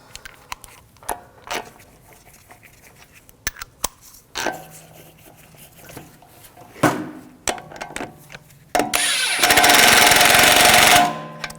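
A power tool tightens the wheel lug bolts on an Audi S4, heard as scattered clanks and knocks followed by a loud sustained burst of rattling impact hammering near the end.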